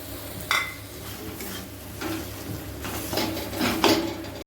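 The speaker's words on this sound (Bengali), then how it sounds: "বেসনটা একটু ভাজা ভাজা করে নিই।" Gram flour (besan) being dry-fried and stirred in a pan for onion kachori filling, with a spoon scraping and clinking against the metal in irregular strokes over a low, steady background, close up and with no voices.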